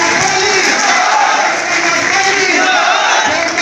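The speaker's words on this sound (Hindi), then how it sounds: "आप सब खड़े हो जाइए और जोरदार ताली बजाइए" A large outdoor crowd at an election campaign rally for a candidate in Naugawan constituency cheers and claps loudly, a dense continuous roar with shouting that holds steady throughout.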